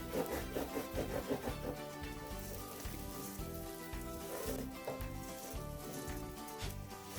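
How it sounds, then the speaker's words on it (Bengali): Basmati rice and red lentils (masoor dal) frying in a pan for Ramadan khichuri, a steady soft sizzle running throughout beneath prominent background music. "ডাল চালটা একটু ভেজে নিব"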